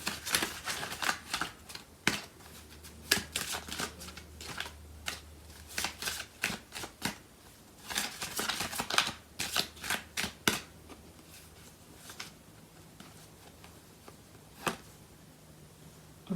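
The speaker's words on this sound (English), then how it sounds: "So I'm going to pull out some cards from the other deck." Tarot cards being shuffled by hand, quiet and close: a run of soft riffling flutters and sharp taps in an irregular rhythm, with short pauses between them.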